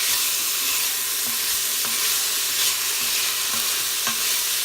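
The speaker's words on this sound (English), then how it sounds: "we're going to fry these down a little bit" Sausage frying in a pot for red beans and rice, a loud, dense, unbroken sizzle with faint periodic stirring scrapes underneath, close up and without speech.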